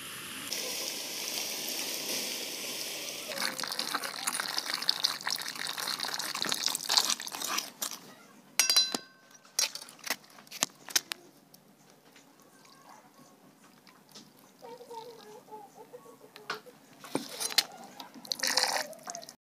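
Ore stones rinsed with water during gold recovery: splashing and running water at first, then scattered drips, trickles and crunchy knocks of wet stone with quieter gaps, close by and without talk.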